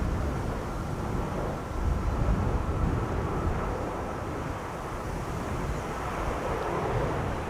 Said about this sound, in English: This is Air Canada flight 808 arriving from Toronto, Canada. 7878 Dreamliner